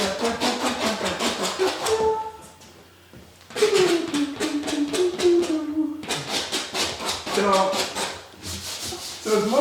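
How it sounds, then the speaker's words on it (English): Paint being scraped off the top layer of an artwork, a steady rhythmic rasping of strokes repeating closely and loudly, with a brief lull midway before the scraping resumes. "what I'm doing right now is just scraping off the top layer of paint"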